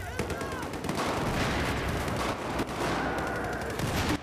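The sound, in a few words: airburst weapon gunfire in Battlefield 4 video game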